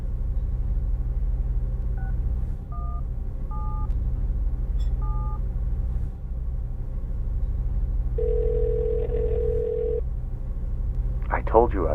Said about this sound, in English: Call me. Dial your number.